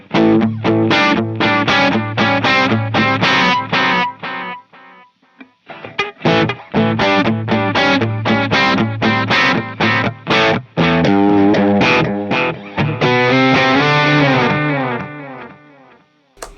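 An electric guitar played through a tape echo effect, distorted chords in rhythmic bursts with repeating echoes trailing each strum, a brief pause midway, then a denser passage.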